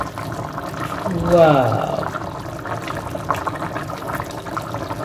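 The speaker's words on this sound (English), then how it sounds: "So you can see our plantains is boiling, guys." Plantains boil in a pot for plantain porridge with bush pepper, giving a soft, steady bubbling and simmering close by. A person talks over the pot and briefly exclaims.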